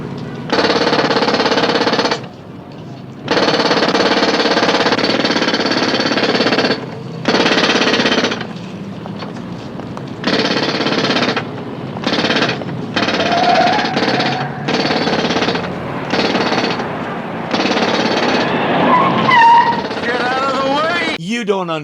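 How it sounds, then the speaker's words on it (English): Loud, close jackhammer on a city sidewalk in the 1975 TV series The Invisible Man pounds in long sustained bursts broken by short gaps, a harsh rapid hammering that dominates the scene. "They're about to start the jackhammer noise."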